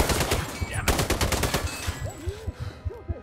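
Rapid bursts of gunfire from the video game Sniper Ghost Warrior 3 crack in quick succession, a fast volley up front and then thinner scattered shots with some game effects.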